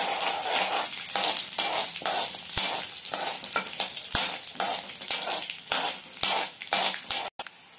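Green chillies and dried red chillies fry in hot oil while being stirred, a loud continuous sizzle broken by repeated scraping and clinking of the spoon against the pan.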